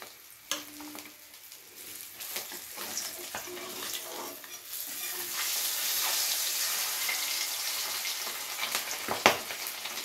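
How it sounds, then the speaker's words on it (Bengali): Katla fish pieces fry in hot oil with a soft, continuous sizzle that swells midway, broken by occasional utensil clicks and taps, quiet and without voices. "তাহলে দেখুন মাছগুলো ঠিক এই পজিশনে ভেজে নিতে হবে, খুব বেশি কিন্তু কড়া করে ভাজলাম না"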